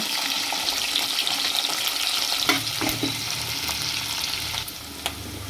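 Chana dal, cumin, bay leaf, green chillies and onion frying in hot oil, a steady loud sizzle with a few stirring scrapes.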